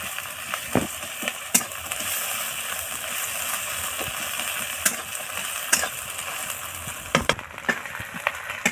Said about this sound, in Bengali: তো জিরা ভাজা হয়ে গেছে পেঁয়াজের সাথে